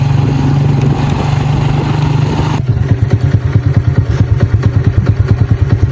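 Motorcycle engine running close by, a steady drone that shifts into a rhythmic, clattering pulse partway through, loud and alone.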